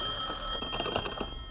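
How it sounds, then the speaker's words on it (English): A telephone rings inside a house in an old radio comedy, a faint, brief electric ring with a steady high tone and a rapid bell warble. "There's the phone again."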